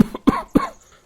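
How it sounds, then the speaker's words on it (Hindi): A man coughs after eating food that was too salty: three close, loud, harsh coughs in quick succession, each a short burst with a rough tail, heard alone. "तभी ससुर के ज्यादा नमक खाने से खांसी आ जाती है।"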